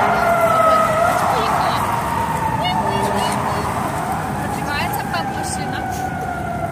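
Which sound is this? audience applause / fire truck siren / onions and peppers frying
fire truck siren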